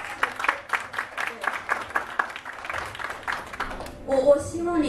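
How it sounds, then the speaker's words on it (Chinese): An audience at a leadership talk claps in a fast, rhythmic burst, voices mixed in under the clapping before it tails off near the end. "给他鼓掌"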